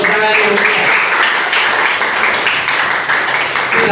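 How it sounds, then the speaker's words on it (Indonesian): Junior high school classroom of students applauding, a continuous loud patter of many hands clapping together, steady for the whole stretch without speech over it. "Ya, tepuk tangan dulu."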